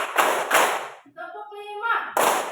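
A class claps hands in unison during a counting ice-breaking game, with a few sharp group claps at the start and again at the end and a spoken count between them.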